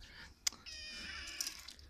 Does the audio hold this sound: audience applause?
no